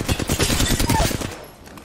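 Rapid automatic gunfire in a first-person shooter video game: a dense, loud stream of shots lasting over a second, then tapering off.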